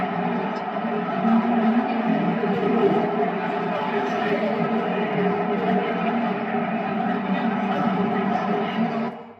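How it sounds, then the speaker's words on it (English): Dense murmur of many voices in a busy cafe, an even wash of indistinct chatter holding at a steady level throughout and trailing off briefly at the end. "So here's the noise of people in a cafe, a busy cafe, to give some atmosphere to the opening of the track."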